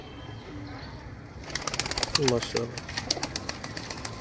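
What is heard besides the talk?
Sialkoti high flyer pigeons cooing and flapping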